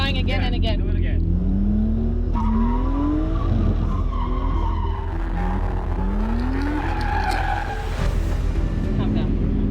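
Car tires squeal and skid while a car revs and accelerates hard, burning rubber, with loud, continuous screeching rising and falling in pitch over engine roar; a voice talks faintly underneath.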